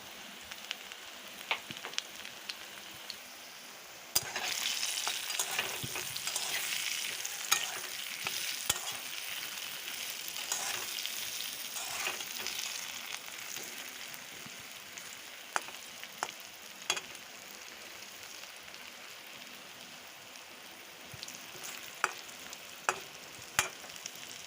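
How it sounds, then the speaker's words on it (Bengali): Potatoes sizzle steadily in hot oil with turmeric in a pan, with frequent close scraping and stirring strokes for a village-style chicken curry; the frying grows louder after a few seconds and carries on without talk. "তো আমার আলুটা ভালো করে ভাজা হতে থাক"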